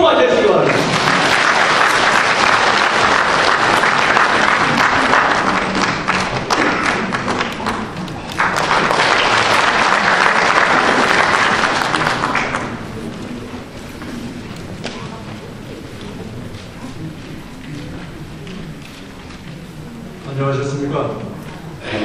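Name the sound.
audience applause welcoming a speaker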